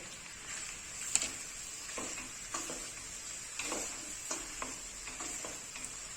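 Fresh peas tipped into tomato paste in a pan and stirred, giving soft scraping and light sizzling with a few small knocks against the pan, close and fairly quiet.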